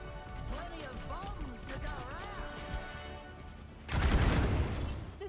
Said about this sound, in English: concussion mines as Junkrat. We get 5 out at once.